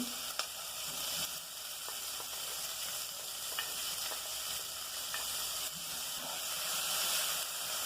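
Chopped onion sizzling and frying steadily in a hot pan for a salteña empanada filling, a continuous close hiss with occasional faint stirring scrapes and no talking.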